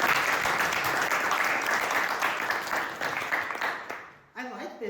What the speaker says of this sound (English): Y'all clap for good stuff.